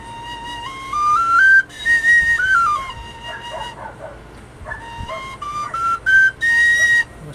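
A small four-hole whistle flute made from natural materials plays a simple rising and falling melody, clear and close, with a few short pauses between phrases.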